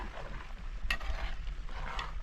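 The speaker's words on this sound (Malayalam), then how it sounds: "ഇനി ഇതൊന്ന് വഴറ്റിയെടുത്താൽ മതി" Rabbit roast masala being sautéed in a pan, with brief scraping stirs over a soft sizzle in a short, close burst and no speech.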